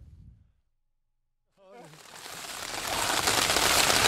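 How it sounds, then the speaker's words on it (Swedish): Rain falls on a surface outdoors in Alaska, a hiss that starts after a short silence and swells steadily louder, with a brief murmur of voice at the start. "Det regnar på ganska bra nu."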